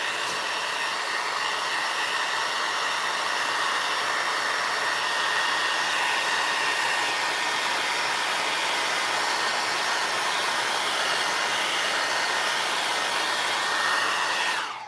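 A handheld dryer blows steadily at close range while drying a small craft sign, a loud unbroken whooshing roar lasting the whole stretch and cutting off at the very end, with no voices over it.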